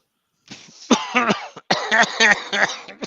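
A person coughs repeatedly in close, rough bursts, a hacking fit of several harsh coughs with brief breaks between them, during a quiz night.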